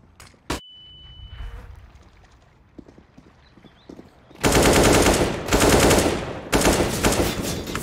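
Rapid automatic gunfire from Counter-Strike: Global Offensive, loud dense bursts taking over the second half after a single sharp early shot and quieter game ambience.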